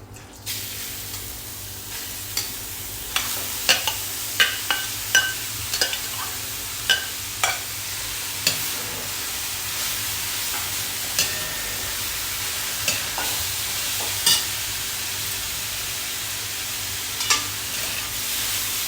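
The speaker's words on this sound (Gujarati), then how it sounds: "જે ગાજર આપણે છીણીને રાખ્યા હતા ને એ ગાજરને શેકી લેવાનું છે." Grated carrots roast in ghee in a large kadai for carrot halva, a steady sizzle and hiss under repeated scraping strokes of a spoon stirring the pan, close and continuous with no talk.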